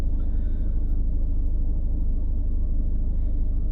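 Car interior rumble while driving through the Kranichstein area of Darmstadt city streets in Germany, a steady low road and engine drone with no talking.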